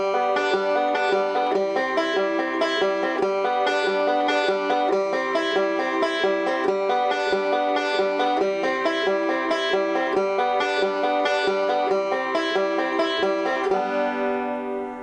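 A banjo plays a rapid, continuous roll, bright plucked notes repeating in an even rolling rhythm, close and steady throughout.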